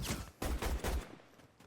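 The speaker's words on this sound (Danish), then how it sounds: "sidder der nu nogen deroppe og sniper mig eller sådan noget?" Rapid bursts of gunfire in Fortnite, several sharp heavy shots in quick succession over about a second, then tailing off into quieter background.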